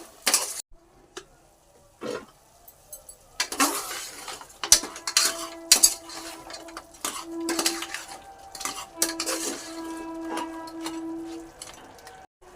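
A pot of curry being stirred with salt added, heard as irregular metal clinks and scrapes of a spoon against the pot, close by, separated by quiet gaps, with a faint low sizzle underneath and no speech.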